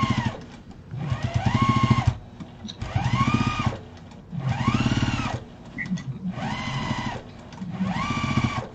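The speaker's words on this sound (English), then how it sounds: "this is what you call stitching in the ditch" Sewing machine stitching in the ditch along a seam on a fabric bowl, its motor running in several steady bursts of rapid needle chatter with short pauses between, close and fairly loud, no talking.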